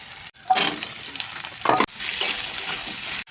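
Potatoes hit hot oil over fried onions and nigella seeds, giving loud bursts of sizzling crackle with stirring scrapes, briefly dipping then flaring up again, close by with no talking.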